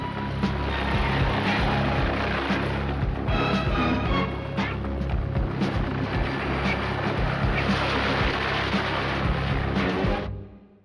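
Helicopter lifting off as a military unit heads out on an operation, a loud, steady rotor and engine roar with dense broadband wash that holds constant throughout, then drops away sharply at the very end.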